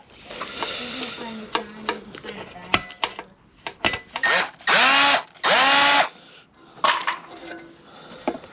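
Power drill boring holes in Mazda RX4 parts, with two sustained whining runs at full speed, shorter bursts and clanks of metal handling around them, near and loud.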